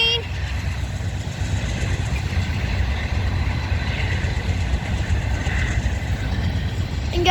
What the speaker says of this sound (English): there it goes. Bye, freight train.